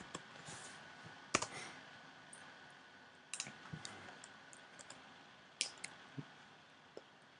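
Someone types an address on a computer keyboard, producing sparse, quiet key clicks and a few sharper taps in an otherwise hushed room.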